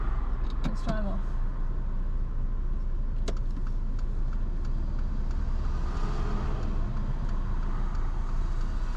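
A car pulls away from a standstill into busy roadway traffic during a driving lesson, with steady low engine rumble and road noise throughout and a few brief clicks near the start.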